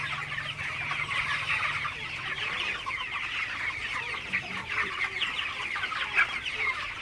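A flock of broiler chickens clucks and chatters continuously, close and moderately loud, with overlapping calls and no talk.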